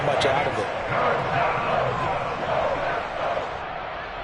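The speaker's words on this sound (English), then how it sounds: "The crowd getting into it as we come up on a big 3rd down." A football stadium crowd cheers and roars ahead of a big third down, a dense, sustained wash of noise that swells and fades slightly, with a commentator talking over it.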